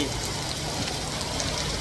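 Heavy storm rain pours down in Kanchanaburi, Thailand, as a dense, unbroken hiss of falling water, loud and steady throughout this brief stretch.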